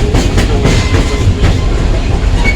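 A vintage passenger railroad car, a restored Southern Railway No. 630 excursion train, rolls steadily over the rails with constant low rumble and repeated clickety-clack wheel beats, loud and close, without talk.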